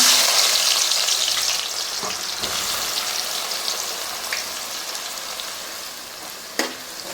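Sliced onions deep-fry in hot oil for chicken biryani, producing a loud, dense, continuous crackling sizzle close up, with a couple of light clicks of a utensil.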